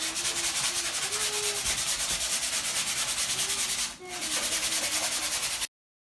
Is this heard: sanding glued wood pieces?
yes